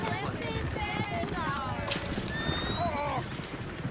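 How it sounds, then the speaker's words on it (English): Horses neighing and whinnying in the video game Red Dead Redemption 2, with hoof clip-clop and voices in the background. "Oh, shit, the horses! Damn horses!"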